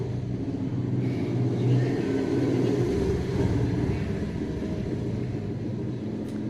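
A motorbike engine rumbles steadily outside, a low continuous drone that swells slightly and then eases, with a brief voice speaking over it.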